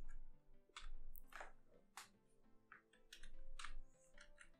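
Code is tapped out on a computer keyboard, a quick, irregular run of close, soft key clicks coming in small bursts at low volume.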